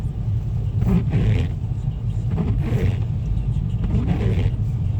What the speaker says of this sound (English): Got like a big truck here.